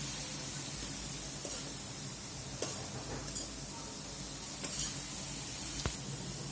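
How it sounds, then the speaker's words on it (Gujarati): Mung beans and fenugreek sautéing in a pan give off a faint, continuous sizzle, with a few soft stirring clicks and taps scattered through it. "હવે આ મગ અને મેથી બંને સરસ એક જુદું જુદું સતરાઈ જાય પછી બધું આપણે મિક્સ કરશું."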